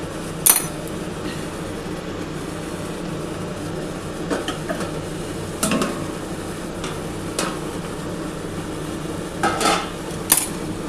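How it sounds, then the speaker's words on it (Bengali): Someone lifts the lid off a pot of spicy potato and long bean curry on a low gas flame to check it: brief metallic clinks and scrapes over a soft, steady sizzle, with no talking. "এবার আমি ঢাকাটা খুলে দেখি"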